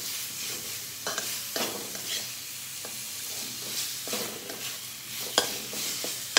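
Salted, lightly boiled mushrooms sizzle steadily in a pan while a spoon stirs them, scraping at irregular intervals, with sharper clinks near the end. The frying is close and moderately loud, and nobody speaks.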